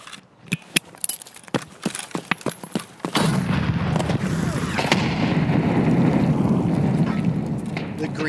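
Gunfire in the shooter game Escape from Tarkov: a rapid run of sharp shots and distant booms early on, then a dense rumbling roar, with voices talking over parts of it.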